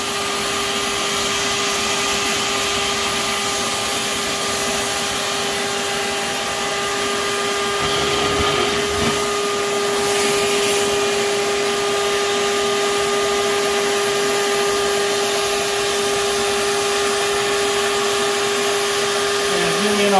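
A vacuum cleaner sucks stink bugs off the leaves of a plant, producing a loud, steady motor drone and airflow rush that runs close and unbroken throughout.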